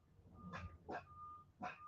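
A dog barks three times in a room, loud and close, with short sharp bursts spaced about half a second apart over a faint background hum.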